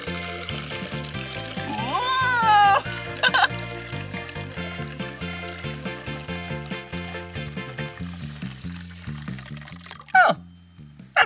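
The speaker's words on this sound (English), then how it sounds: "let's add our water" Water is poured into a lemonade mix, a steady trickle heard under a bright musical backing with a short splashy burst near the end.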